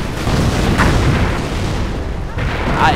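Artillery shells land in the Company of Heroes video game, a loud, dense roar of booming impacts rolling continuously with brief flares of crackle.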